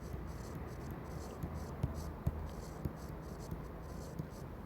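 Pen scratching on paper while a math problem is worked out, faint steady strokes with a few sharper taps, close and quiet against room hiss.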